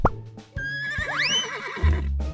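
A horse neighs in the Brain Test 2 puzzle game, a loud whinny with a rising, then wavering pitch lasting over a second, followed by a low thud near the end.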